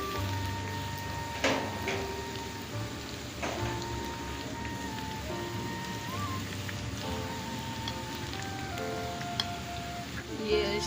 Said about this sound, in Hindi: ये आहिस्ता आंच पे फ्राई करने हैं, तेज़ पे नहीं करने, नहीं तो अंदर से कच्चे रह जाएंगे।